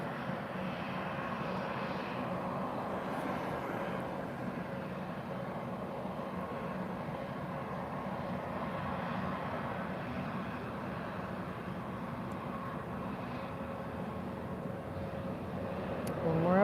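A Ryanair Boeing 737 airliner landing at Lisbon Airport on a sunny afternoon, heard as a steady, broad engine roar that holds evenly throughout and swells slightly at the very end.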